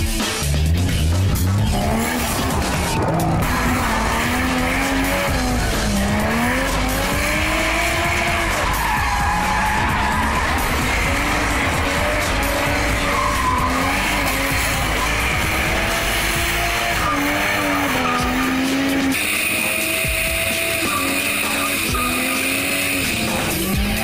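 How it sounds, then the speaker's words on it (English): Tires squeal and skid continuously as a car drifts at a Lotus FM SupaCharg'd drift event, with the engine revving and wailing throughout, loud and close. "quite another to actually experience a drift from inside a car"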